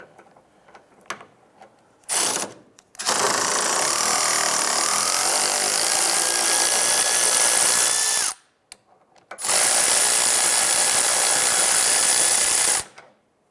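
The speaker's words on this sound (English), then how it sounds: "Using a 22mm socket and your 13mm wrench holding the inner tie rod, let's remove the tie rod nut." A power tool with a 22mm socket spins off the tie rod nut on a 2011-2019 Ford Fiesta while a 13mm wrench holds the inner tie rod. It makes two long, loud, steady whirring bursts after a few short clicks, with no talking.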